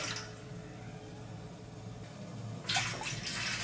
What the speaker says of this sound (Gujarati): તો અહીં આપણે બે ગ્લાસ પાણી લઈ લીધું છે